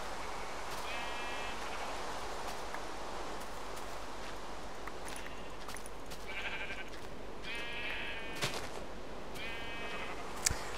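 Several sheep bleats from the Minecraft video game sound in short bursts across the span, moderately loud over a steady rustling background with occasional clicks.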